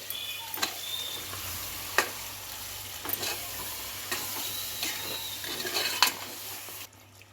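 Chicken pulao with homemade yogurt is stirred in a pot, giving a steady low simmering bubble with a few sharp scrapes and clinks of the spoon against the pot at irregular intervals, heard alone without talk.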